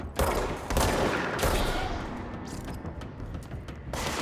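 Gunfire battering a barrier in the video game Control, dense rapid shots in loud close bursts with brief gaps between volleys.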